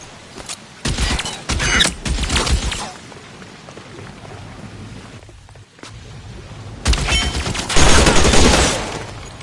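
Gunfire from a shootout in the video game L.A. Noire, with dense bursts of shots in several loud clusters, the heaviest volley near the end, separated by quieter stretches.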